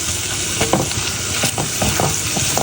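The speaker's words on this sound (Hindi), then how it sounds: "अब हम इसको थोड़ा सा भून लेंगे।" Melon seeds and spices frying in a pan give a steady close sizzle, with scraping stirring strokes scattered over it and no talking.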